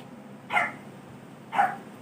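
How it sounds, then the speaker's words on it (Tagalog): A dog barks twice in the background, two short distant yips about a second apart over a low steady hum. "naririnig nyo ba yung tumatahol sa background?"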